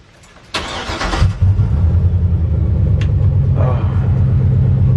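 A Trailblazer SS engine swapped into a 1965 Chevy C10 cranks and fires at about half a second, then settles into a loud, steady, rumbling idle close by.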